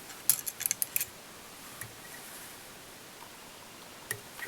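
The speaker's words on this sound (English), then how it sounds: "Trim off our tie-in silk." Scissors trimming tying silk at a fly-tying vise while making a peacock herl head, a quick burst of small crisp snips followed by quiet, then another faint snip or two near the end.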